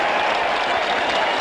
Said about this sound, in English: the Halifax crowd like it